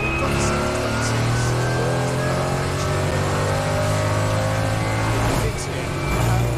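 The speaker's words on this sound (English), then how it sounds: "This is now where we'll expect the rest of the cars to come into the pits with Joe Bradley" Race cars at the Mugello circuit during a 12-hour endurance race, engines droning and revving loudly in the pit lane, several cars overlapping continuously, with faint commentary talk underneath.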